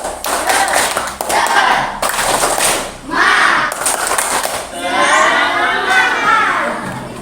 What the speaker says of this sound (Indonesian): coba kita tepuk semangat dulu. 1, 2, mulai. Tepuk semangat.